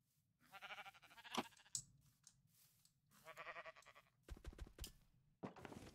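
Sheep in the Minecraft modpack All the Mods bleat in short wavering calls, three or four bursts separated by silence, with a few clicks and thuds between them.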